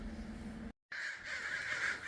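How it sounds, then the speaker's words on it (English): Crows caw outside at sunrise, harsh repeated calls fairly close, broken by a brief silent gap, with no talking. "and a few crows for you"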